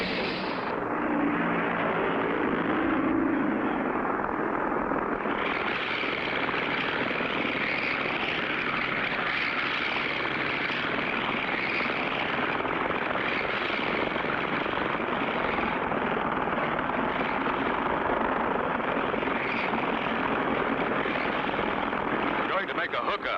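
A cartoon propeller plane's engine roars in a steady, loud, continuous drone with a buzzing whir, rising sharply at the start and holding for the rest.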